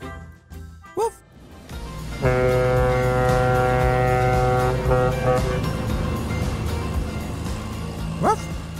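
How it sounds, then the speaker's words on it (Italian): A ship's horn sounds as the vessel enters a port, a long steady blast held for a few seconds after short yips and whimpers from a cartoon dog, then fading out with another brief yelp at the end. "Ragazzi, c'è una nave che sta entrando nel porto."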